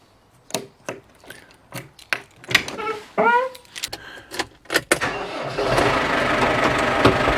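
A Case tractor's engine cranks and catches after some clicks and rattling keys, then settles into a steady, fairly close idle as it begins warming up.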